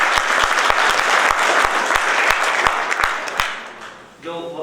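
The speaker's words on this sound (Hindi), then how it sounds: "उनके लिए जोरदार ताली" Loud, steady applause from an audience at a law college moot court, sustained for several seconds with sharp individual claps standing out, then thinning near the end as a voice comes in.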